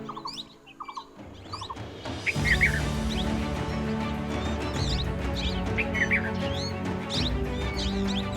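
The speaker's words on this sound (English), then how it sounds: "The beautiful and vibrant plum-headed parakeets came in small flocks to eat ripe figs." Plum-headed parakeets feeding in small flocks on ripe figs in a fig tree in Corbett National Park, with repeated high chirps and calls over a steady rustling outdoor background.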